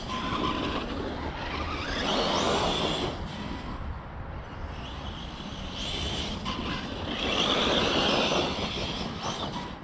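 A Losi DB Pro RC car drives across grass and loose dirt, its electric motor whining and rising and falling as it speeds past, with rough rumbling of tires on the ground.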